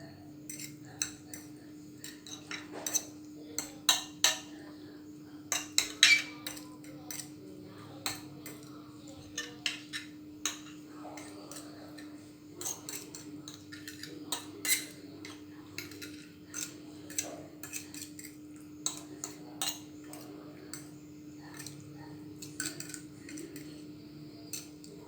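Ingredients for prawn puttu are mixed by hand in a bowl, with faint scattered clinks, scrapes and taps of utensils over a quiet steady hum.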